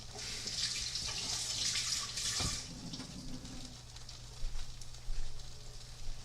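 Cilantro rinsed under a running kitchen tap, a steady close hiss of flowing water with a brief knock partway through, then quieter splashing and a couple of soft bumps.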